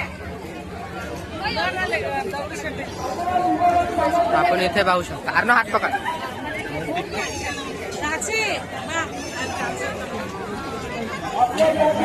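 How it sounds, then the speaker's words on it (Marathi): A large crowd murmurs and bustles at the Dagdusheth Ganpati temple in Pune during the Ganpati festival. The hubbub stays dense and close throughout, while a nearby voice speaks over it. "पण आपण आत नाही जाणार कारण की गर्दी खूप आहे, खूप संख्येने आहे"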